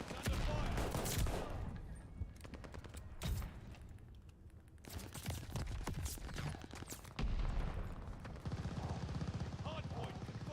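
Gunfire in a shooter game during a fight over the hard point, with dense bursts of automatic and rapid shots, loud and close, broken by brief quieter gaps, and a voice speaking at times among the shots.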